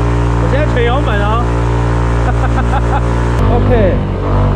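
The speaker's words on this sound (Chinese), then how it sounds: "我现在踩油门哦" A Yamaha SMAX scooter engine drones loud and steady while climbing a very steep off-road slope, its pitch shifting partway through, with excited talking over the engine noise.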